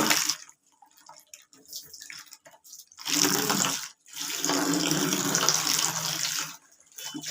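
Water poured out in a small amount to mix cattle feed in a cowshed, two bursts of splashing flow separated by a short pause, near and moderately loud, with quieter trickling before and after.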